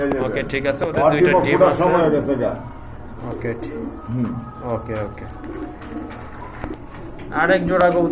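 Cooing from a pair of large sky-blue pigeons offered for sale, heard close among other birds while people talk loudly over much of it.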